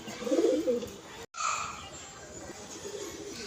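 Pigeons coo softly in a low, throaty burble, a brief dropout partway through, then quieter bird murmurs continue.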